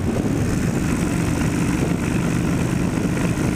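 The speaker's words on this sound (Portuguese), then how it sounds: "Fazendo um pequeno teste com a moto aqui." A Kawasaki Vulcan 1500 motorcycle engine runs steadily during a test ride, a loud, close, continuous low rumbling drone with no talk over it.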